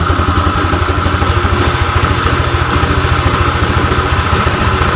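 A Honda Vario 125 scooter with a sputtering fault and overheating idles steadily at a raised speed, a loud close engine drone with a regular low pulsing throb and no voices.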